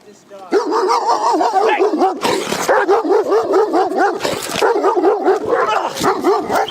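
An aggressive German Shepherd barks repeatedly and loudly at close range in a rapid, steady rhythm during a police encounter in Utah, with voices talking over it.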